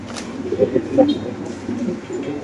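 Lahori pigeons coo in soft, low, repeated bursts at close range, mixed with muffled background voices.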